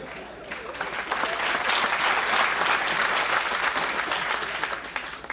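Audience applause rising and filling a lecture hall at a talk on friendship, a dense, steady wash of many hands clapping that swells then tapers slightly, with no voices over it.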